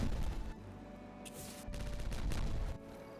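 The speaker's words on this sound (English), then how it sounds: "Explosion time." Explosions in the Timberborn video game burst out in a loud, rapid fusillade of cracking blasts, several heavy booms clustered over a few seconds with brief gaps between them.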